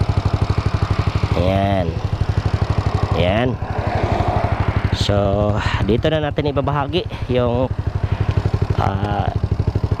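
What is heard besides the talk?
Suzuki Raider J115 Fi motorcycle engine running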